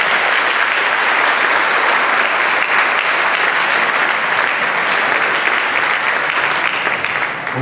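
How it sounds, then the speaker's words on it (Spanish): Loud, sustained applause from a large audience at a charismatic Catholic congress fills the hall for over seven seconds, dense and even, with no voices on top. "Denle un aplauso al Señor."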